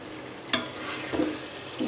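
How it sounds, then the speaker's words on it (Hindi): Cabbage and chicken curry stirred in a pan after cooking, two or three soft scraping strokes with a faint sizzle underneath, close and fairly quiet. "अभी मैं उतार के इसे अच्छी तरह हिलाती हूँ।"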